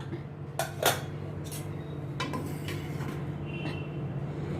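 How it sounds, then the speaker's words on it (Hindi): A pressure cooker lid comes off in a home kitchen after cooking lauki and chana dal, giving a few sharp metallic clinks and clatters over a low steady background hum. "अभी कुकर का मैं ढक्कन खोलती हूँ।"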